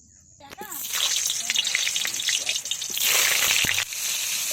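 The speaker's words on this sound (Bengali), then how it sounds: "আলু ভেজে নেব।" Potatoes fry in mustard oil in a wok: a dense, steady sizzle starts after a brief quiet moment and carries on loudly without a break, with faint clinks underneath.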